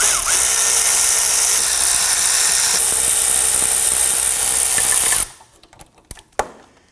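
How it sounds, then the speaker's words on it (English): Loud continuous whir and rattle of a power tool working on rear wheel hub bolts of a 2015-2024 Nissan Murano, running steadily for about five seconds before cutting off, followed by a few light clanks. "I'm going to switch over to my power tool."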